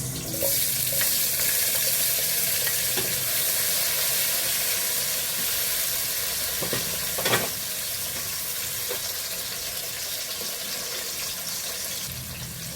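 Garlic and tomato sizzle in a pan for a sautéed bitter-gourd breakfast dish, a steady close frying hiss with a few light clinks and stirring sounds.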